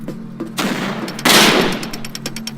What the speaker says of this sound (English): Oh, cannon!